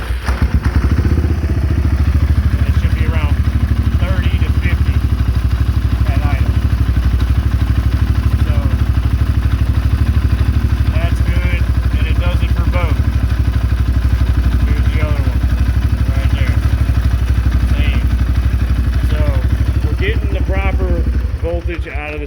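A 2012 Polaris Sportsman 550 EPS ATV engine runs steadily and loudly close by for the whole stretch, a constant low rumble with light mechanical clatter on top, while a person talks over it.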